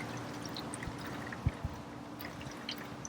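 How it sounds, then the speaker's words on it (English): Vinegar being drained off a soaked egg, a faint steady pour with a couple of soft drips and a small splash near the middle, outdoors and without talk. "We're going to drain off our vinegar."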